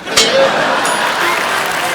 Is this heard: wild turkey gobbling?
no